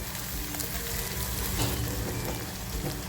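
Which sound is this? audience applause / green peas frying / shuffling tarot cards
green peas frying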